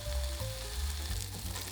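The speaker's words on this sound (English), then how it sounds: "Heat a frying pan and lightly sear both sides of the salmon." Lightly salted salmon sears in a hot frying pan, giving a steady, loud sizzle and crackle of frying throughout with no voices.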